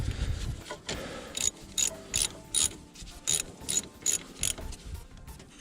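A ratchet wrench clicks in quick rhythmic bursts, pausing between strokes, as caliper bolts are tightened during a brake pad replacement on a 2010 Ford Focus; close and fairly loud with no talk.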